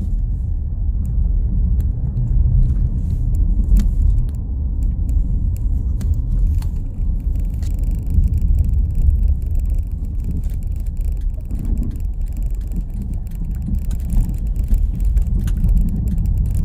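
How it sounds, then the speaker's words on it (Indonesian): Steady low engine and tyre rumble from cars travelling a tree-lined countryside road near Jumantono under cloudy skies, a continuous loud drone with no clear separate passes and no voices. "Tampak banyak juga mobil-mobil yang keluaran tahun terbaru melintas di jalan ini."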